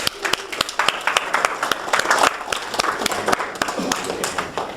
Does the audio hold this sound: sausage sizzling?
no